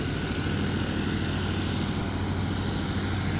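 Continuous loud, steady drone of an MX2 aerobatic plane's propeller engine running on the runway before takeoff at an air show, with no talk over it.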